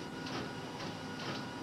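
A label printer prints with a faint, steady mechanical hum and soft feed sounds, along with a few brief rhythmic bursts of higher-pitched whirring.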